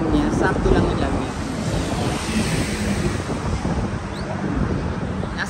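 Steady wind buffets the microphone at the entrance to the Brooklyn Bridge in New York City on a cool autumn day, a loud, constant rushing roar with no break.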